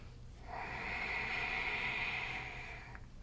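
A single deep, slow breath during yoga practice, one long, steady, airy exhale lasting a few seconds, close and fairly soft, with no talking over it.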